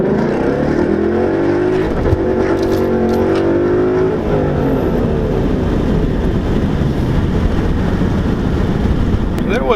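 Car engine revving hard as it accelerates from a standstill to 60 mph with an automatic start, a loud steady roar with rising pitch sweeps and gear changes throughout.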